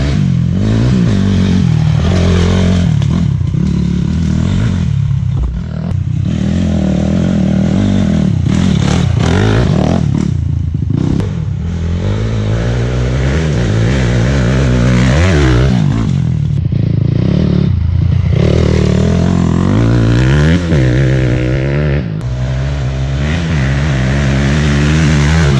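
A 2006 Honda CRF250R dirt bike rides on trails, its engine loud and close for the whole stretch, revving up and down continuously while its note rises and falls with the throttle.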